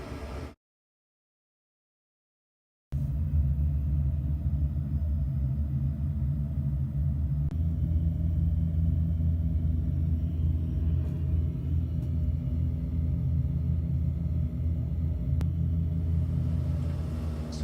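Steady, loud drone of turboprop engines on a Twin Otter-type aircraft in flight, running near their temperature limit; a deep, constant rumble fills the cabin after a brief silent gap at the start.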